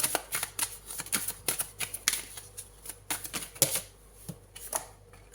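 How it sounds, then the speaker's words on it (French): Tarot cards shuffled and drawn from a deck, a dense run of quick crisp riffles and flicks close by, with rapid irregular slaps and no talking. "Je prends une troisième carte."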